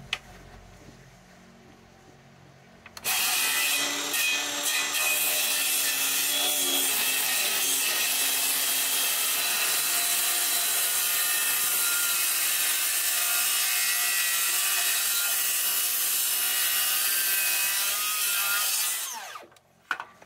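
A circular saw rips through wood at a house basement job site, a loud continuous harsh cutting roar that starts abruptly and runs steadily for about sixteen seconds before winding down, with no talk.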